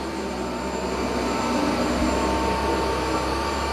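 Dyson 360 Vis Nav robot vacuum cleaning a room, a steady loud whirring drone with an even motor hum running throughout, no speech.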